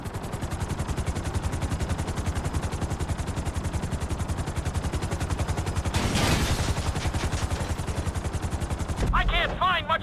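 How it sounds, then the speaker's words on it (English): Helicopter in the video game GTA V during a flight-school landing on a helipad: a steady, loud rapid rotor chop throughout, with a brief louder burst of noise midway and a shift in tone near the end. "Bring the helicopter down gently onto the helipad."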